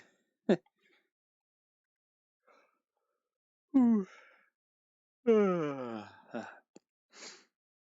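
A person yawning late at night, several long drawn-out breathy vocal yawns and sighs with silence between them, close to the microphone.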